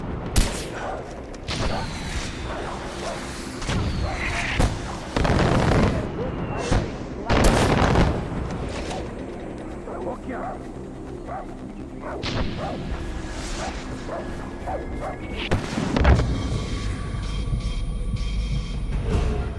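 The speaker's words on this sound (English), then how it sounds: "They've got mortars." Mortar fire and explosions in the video game Far Cry 4, with repeated loud booms and whooshing blasts scattered through a busy, continuous battle din, with some speech in the background.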